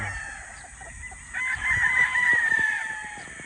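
Gamefowl rooster crowing close by in a single drawn-out call, with faint background clucking and shuffling and no talk.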